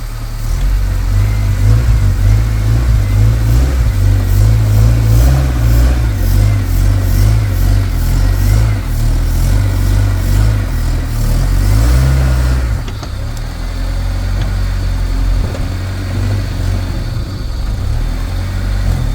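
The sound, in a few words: manual car engine revving, driving up onto car ramps in first gear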